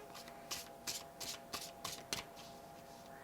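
Tarot cards shuffled by hand in a quiet room, several soft riffling bursts in a loose rhythm, close but faint.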